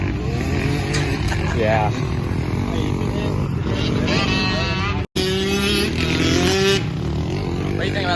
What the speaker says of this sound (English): What do you think about that two-stroke?